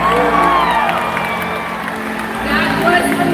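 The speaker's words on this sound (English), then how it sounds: "When we see it, let's give him a great big cheer!" A stadium crowd at a live killer whale show cheers and whoops loudly for an orca jump, a dense roar of voices and applause with shouting on top throughout.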